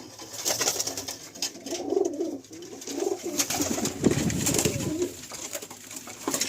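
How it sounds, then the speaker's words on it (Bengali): Pigeons coo steadily in a loft holding white males, old-line birds and many young squabs: a continuous close chorus of overlapping throaty coos with soft rustling, and no talking. "নিচে প্রচুর বাচ্চা পায়রা রয়েছে।"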